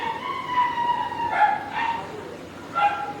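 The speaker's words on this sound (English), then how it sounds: "Hopefully you can't hear all those dogs" Several dogs yip and bark in the background, with faint talk underneath and a few louder bursts scattered across the clip.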